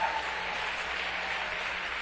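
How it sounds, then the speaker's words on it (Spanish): A church congregation applauds, a brief, even burst of clapping at moderate loudness lasting about two seconds. "dé un fuerte aplauso al Señor."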